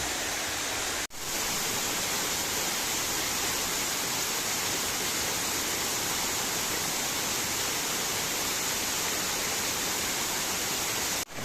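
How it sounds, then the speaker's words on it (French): The Cascade de la Truite waterfall near Grandval in the Cantal pours steadily into a small pool below, a dense, unbroken roar close by with no voices, briefly cut off near the start. "la cascade qui dévale de la coulée, la petite piscine en bas"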